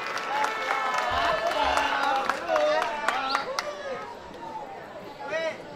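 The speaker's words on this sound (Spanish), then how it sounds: "Le brindamos el aplauso a nuestra representante de Agua Blanca" Crowd applause fills the air for a contestant at a small-town pageant's queens' night during the 2023 patron saint festival in Cacaopera, Morazán, with a voice talking loudly over the steady clapping throughout.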